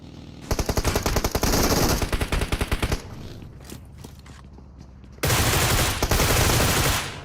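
Automatic gunfire from PUBG Mobile, with a rapid burst of near, loud shots followed by a quieter gap with scattered sounds, then a second dense, sustained volley of fire.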